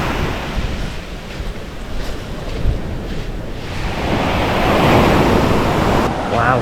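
Ocean surf at Thomas Beach in Bali, a continuous rushing wash of waves that swells louder toward the end, mixed with gusting wind buffeting the microphone.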